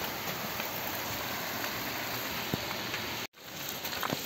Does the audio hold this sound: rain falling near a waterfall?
yes